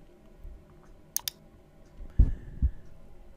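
Mouse clicks while selecting mesh edges in Blender, a quick double click near the middle followed by a couple of soft thuds, close and fairly quiet with no talking.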